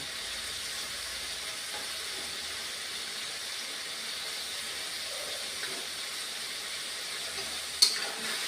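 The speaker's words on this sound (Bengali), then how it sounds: "আর এখন বন্ধুরা কুচানো পেঁয়াজ দিয়ে দিলাম" Chopped onions sizzle in a pan while mutton curry cooks, making a soft, steady hiss that stays even throughout, with a brief utensil clink near the end.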